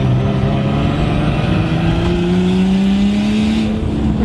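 A Nissan R32 Skyline engine runs steadily at close range, a loud continuous drone with its pitch slowly rising as the revs climb, no talking heard.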